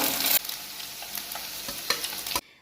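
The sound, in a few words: paneer frying in oil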